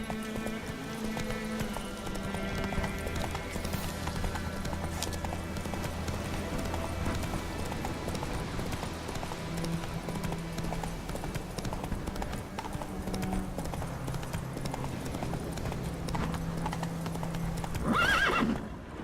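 Roach, Geralt's horse in The Witcher 3, trots with steady, rhythmic clip-clop hoofbeats over a constant game music bed, then lets out a loud whinny near the end.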